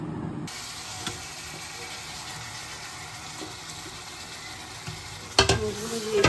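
Green chillies stirred in a pan with a little oil while cooking dal give a soft, steady sizzle and hiss, with a brief clatter of the spoon against the pan near the end.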